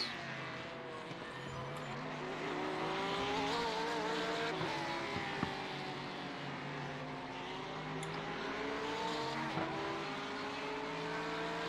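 Race car at Sebring 12h 2022 endurance race drifting, engine note rising and falling under sustained tire squeal, steady and moderately loud over several seconds.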